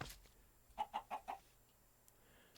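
A chicken in the video game Minecraft gives four short clucks in quick succession, clear and close, with quiet surroundings before and after.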